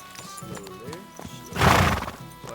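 In the Kingdom Come Deliverance II video game, a horse clip-clops with close hoof steps and then lets out a loud, drawn-out neigh in the middle.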